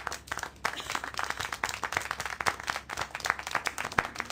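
Scattered clapping in the video game Syberia The World Before, a sparse, quiet patter of hand claps with uneven rhythm throughout, somewhat distant.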